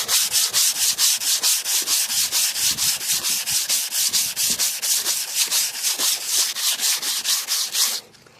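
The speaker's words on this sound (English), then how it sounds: "Just sand away." Steady back-and-forth sanding strokes rub across the body panel of a 1988 Cadillac DeVille, a loud, close, even rhythm of many rapid passes that stops abruptly near the end.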